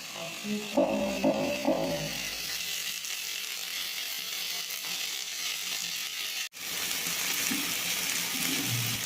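Brinjal and neem leaves fry in a pan for Bengali neem begun, giving a steady, dense sizzle with crackling bursts early on, continuing without a break to the end. No one speaks.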